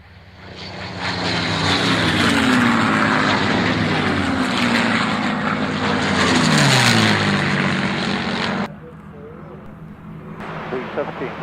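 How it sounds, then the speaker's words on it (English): Four P-51 Mustangs make a flypast at Duxford, the propeller engines rising to a loud, droning roar that swells, holds and fades, with a voice talking over part of it. "Mustang, the 4 ship running in."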